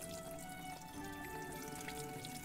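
Water trickling and dripping steadily as bottles are filled in Everdream Valley, faint and continuous with soft bubbling beneath a quiet background hum.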